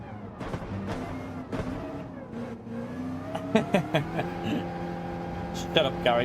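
McLaren race car in Gran Turismo 7 during a manufacturer series test, engine revving with rising and falling pitch through gear changes, steady and prominent, with someone talking over it.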